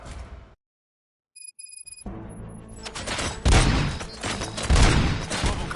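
Gunfire in the video game Robocop Rogue City: after a short silent gap and some electronic beeps, rapid bursts of loud shots build into a dense, continuous fusillade.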